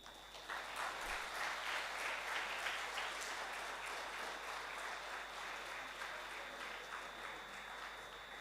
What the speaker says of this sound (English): give a big round of applause to the dignitaries while they leave the venue